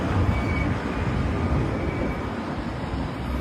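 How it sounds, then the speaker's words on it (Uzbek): An Istanbul tram runs past with a steady, loud rumble and rolling rail noise, close by and continuous throughout, with no voices over it. "Tramvay."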